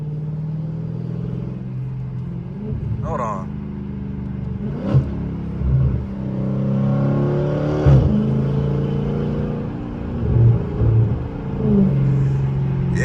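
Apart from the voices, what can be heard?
tuned Dodge Charger exhaust revving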